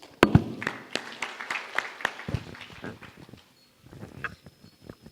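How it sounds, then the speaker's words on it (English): An indoor audience at a medical meeting applauds with scattered claps and a few louder sharp strikes. The clapping is thin and uneven, fades into a brief lull, then picks up again faintly. "let's all give him a round of applause"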